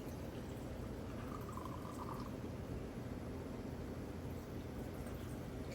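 A drink is poured into a glass outdoors. The liquid trickles faintly for about a second beneath a steady background hiss.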